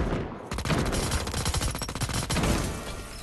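Rapid automatic gunfire from a gun in the video game Indus Battle Royale, a dense, continuous burst of shots that carries loudly through nearly the whole stretch after a brief quiet start.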